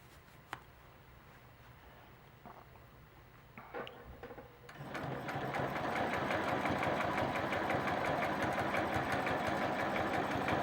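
A sewing machine stitches gentle S-curves across a quilt, beginning with faint scattered clicks and then settling after about five seconds into a loud, steady, rapid mechanical whir that runs without pause to the end.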